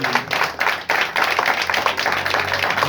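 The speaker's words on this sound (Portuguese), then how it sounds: "Pode aplaudir, porque é para Jesus as palmas." A church congregation claps for Jesus during an evangelism gathering at a recovery house: loud, close clapping with a few sharp accented claps at first, then continuous rhythmic applause.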